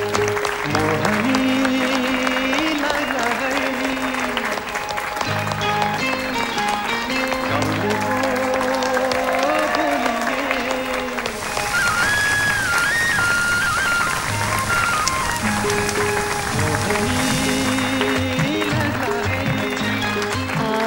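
A studio audience at the Mero Voice Cup Season 2 singing contest applauds to welcome a composer onto the stage, a steady wash of clapping running under loud band music for the whole stretch.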